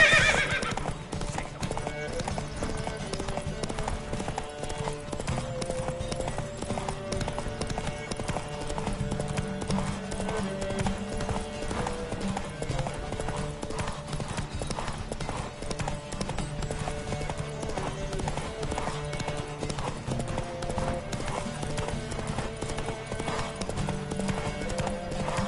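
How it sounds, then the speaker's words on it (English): Hooves clip-clop in a fast, steady rhythm as horses gallop in a race in the Witcher 3 video game, with an occasional whinny over the continuous pounding. "Don't spare the horse!"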